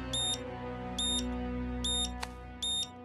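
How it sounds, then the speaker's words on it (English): A City Hall fire alarm sounds in an animated cartoon: four short, high electronic beep bursts repeat at a steady pace over a low humming background, with one sharp click between them. "That's the City Hall fire alarm."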